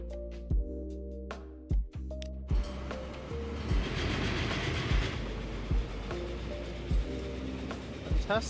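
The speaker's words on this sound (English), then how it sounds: "There's our little freight train trying to catch up to us." A freight train rolls along in the Transport Fever 2 video game, its wheels clattering in a steady rhythm of sharp periodic clacks over a continuous heavy rumble that grows denser and louder midway.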